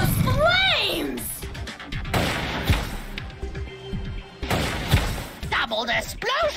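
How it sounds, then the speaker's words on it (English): Explosions in the Atlas Reactor video game: several booming blasts and crashing bursts among whooshing effects, loud and near, with chirpy game sounds and voices layered over them. "Doubled explosion thing!"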